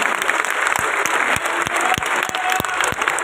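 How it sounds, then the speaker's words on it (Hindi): An audience claps loudly to welcome Governor Gulab Chand Kataria at a grand reception, strong continuous applause with individual sharp claps standing out close by. "एक बार जोरदार तालियों से आप उनका स्वागत करें"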